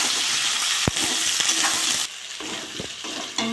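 Potatoes and eggplant fry in a pan with onion and green chili, giving a steady, close hiss of sizzling oil broken by a few sharp clinks as the pieces are stirred, with no talking.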